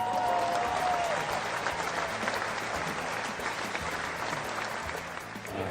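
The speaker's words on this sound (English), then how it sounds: "Oh, my hands are sore from clapping." An audience applauds at the final bow of a Burn the Floor ballroom dance show, a thick, continuous roar of clapping that holds strong and tapers slightly at the end.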